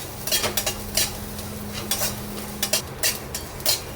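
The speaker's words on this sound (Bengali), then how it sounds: "এবার এর মধ্যে দিয়ে দেব বেশ খানিকটা পেঁয়াজ, দিয়ে এগুলো আমি ভালো করে একটু ভেজে নেব" Onions with black cumin frying in a pan, a soft steady sizzle beneath repeated metallic scrapes and clinks of a spatula stirring, close and without speech.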